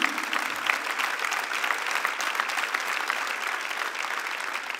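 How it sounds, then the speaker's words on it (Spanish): A church congregation applauds steadily and loudly for the full stretch, a dense wash of many hands clapping with no break and no voices on top. "un aplauso bien fuerte a Jesús"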